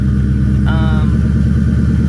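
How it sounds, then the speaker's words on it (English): A twin-turbo V8 Ford Mustang GT350 idles with the exhaust dumped right after the turbos, a deep, steady rumble, loud and close, with a brief higher tonal whine rising over it partway through. "So this is regular idle"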